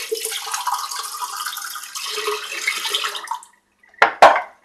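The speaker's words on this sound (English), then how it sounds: "Call that brush almost rinsed." A shaving brush is rinsed under a running tap, with a steady hiss of water for about three seconds, then silence and two short, sharp splashes or shakes.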